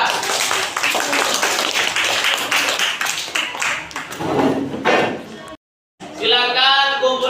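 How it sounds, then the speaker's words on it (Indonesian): A classroom of students claps for a group, a busy patter of many hands over several seconds mixed with voices, then a brief silence and more talking. "Kita berikan tepuk tangan untuk kelompok 3."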